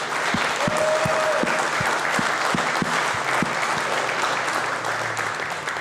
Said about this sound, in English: So how about a round of applause for all the candidates?